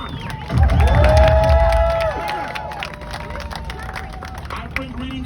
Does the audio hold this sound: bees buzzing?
no